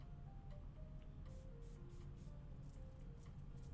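A bottle of pineapple-scented perfume gives a few short, faint, airy spray bursts against a low steady background.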